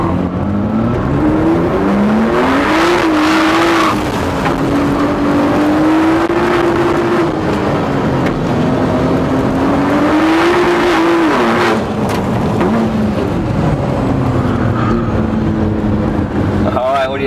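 A Ford GT40 sports car races on a track against Corvettes, its loud engine rising and falling through gears, with tire noise and a short burst of talk from the occupants.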